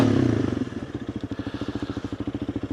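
A motorcycle dropped into first gear and revved, its engine first droning loudly, then settling into a rapid, regular pulsing beat that holds steady nearby.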